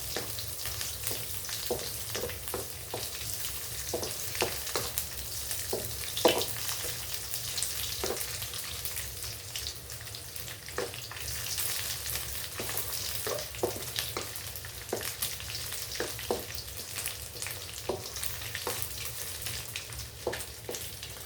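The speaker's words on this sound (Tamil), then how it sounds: "இப்போ நெத்திலி பொரிஞ்சிடுச்சு." Anchovies fry in hot oil for a radish curry, giving a steady close sizzle with scattered pops and crackles throughout and no voices.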